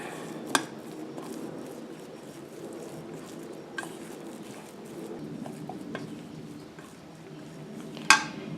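Solid dog shampoo mixture with geranium rosa drops being stirred in a bowl, a soft steady scraping texture broken by a few sharp utensil clinks, close and fairly quiet.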